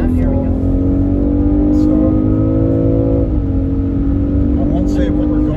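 A BMW X5 accelerates hard from close inside the cabin, its engine tone climbing steadily and dipping briefly with a gear change before rising again, while people talk over it.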